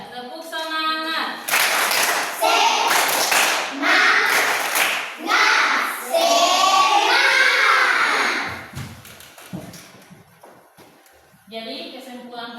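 A classroom group claps together in unison, several bursts of rhythmic clapping mixed with voices and cheering, loud and close.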